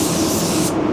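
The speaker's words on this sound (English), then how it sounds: "I will just lightly spray a coat of this" A paint spray gun lightly sprays a coat of reducer in one steady, loud hiss close by, lasting under a second and cutting off abruptly.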